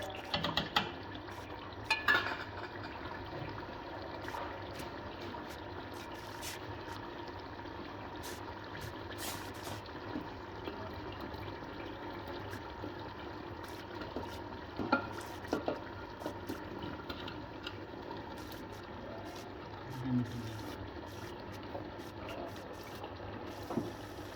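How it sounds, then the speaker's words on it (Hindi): Cauliflower stirred into cooked mutton in a pot, with a steady scraping and shuffling of the spoon against the metal and occasional soft clinks, continuous and moderately quiet, with no talking. "दोस्तों, गोभी मिक्स करनी है अभी हमने।"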